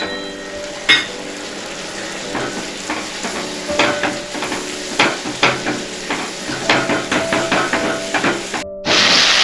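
Gram flour (besan) is stirred into a sizzling gravy in a pan for a peas, potato and tomato curry: repeated close spoon scrapes and taps ride over a constant hissing fry, with no talk.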